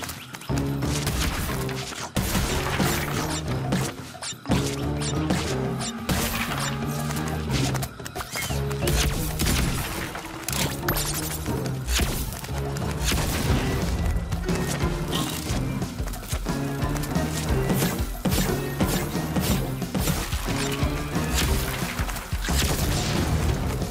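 Blaster shots and smashing impacts in Crash Bandicoot 4 among prehistoric creatures, a dense, continuous run of booms, cracks and thuds layered over loud game music with no pause.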